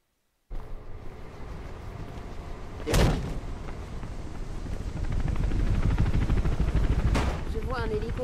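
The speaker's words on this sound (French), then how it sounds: "on dirait bien que c'est un hélicoptère de police" A police helicopter in the Mirror's Edge video game gives a steady, loud rotor drone that swells in the second half and runs under gunfire-like bursts and game sounds.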